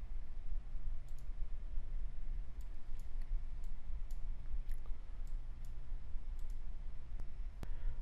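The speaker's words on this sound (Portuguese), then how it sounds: "Vou clicar aqui em abrir." Sharp, light computer mouse clicks during Photoshop CC 2018 image editing, a dozen or so single clicks at irregular intervals over a steady low background hum, close and fairly quiet, no talking.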